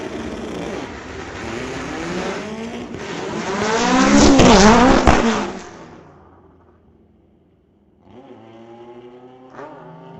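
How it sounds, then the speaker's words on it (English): Volkswagen Bug drag car blasting down the strip at a July 2025 drag race night, loud engine roar building then cutting out, followed by quieter uneven running with sharp backfire pops. "having some issues, some backfiring, some popping, so getting out of it and then kind of getting back into it and just cruising on down the track"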